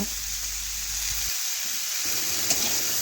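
Pointed gourd (potol) frying in oil in a kadai gives a steady, soft sizzling hiss that dips briefly midway and then resumes, with a faint clink near the end and no voices.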